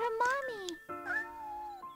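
Kitten meowing in the video game Shenmue: a couple of short, rising-then-falling high-pitched mews, close and clear, with the second call drawn out longer.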